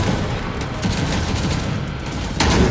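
Automated turret fire rattles through a chaotic video game battlefield, a dense continuous barrage of rapid gunshots with booming impacts, loud and close, growing heavier near the end, no voices.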